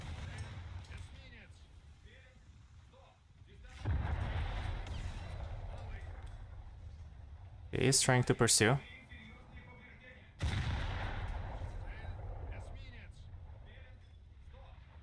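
Naval gunfire in War Thunder comes as deep booming blasts with rumbling tails and a bright metallic burst in the middle, under someone talking and ongoing engine drone.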